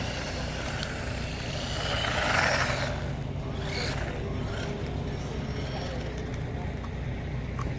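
A small HBX Hailstorm 1:18 off-road 4WD RC truck running, giving a steady, continuous electric whir and rumbling drive noise that swells slightly partway through and never stops.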